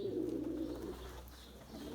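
A pigeon coos softly and close, a low rounded call in the opening second, then fading into quiet ambient noise.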